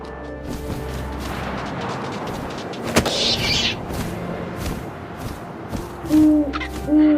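An owl hoots in the video game What Remains of Edith Finch, a few low calls over a windy background, with a sharp thump near the middle and louder rustling toward the end.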